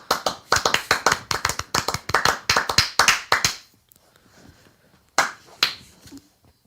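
A fast, irregular run of sharp hand claps, close and loud, lasting a few seconds before stopping, followed by a quiet gap and two more isolated loud claps.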